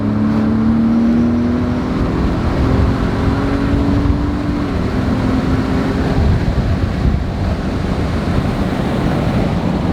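A Ford Raptor pickup truck engine with a Cobb Access Port tune roars loudly and steadily for the full stretch, its pitch climbing as it accelerates hard from 50 under heavy, continuous road and wind noise.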